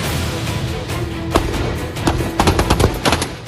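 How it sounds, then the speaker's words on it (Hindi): Rifle fire at targets during the Vajra Prahar joint military exercise: scattered sharp shots early, then rapid clustered bursts of gunfire near the end, loud and close with no talking. "सामने टारगेट और टारगेट पर दागी जाती गोलियां।"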